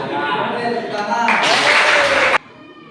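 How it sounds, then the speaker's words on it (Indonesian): A group claps together during a classroom teaching session, a dense burst of applause lasting about a second after a short stretch of voices. "tepuk tangan"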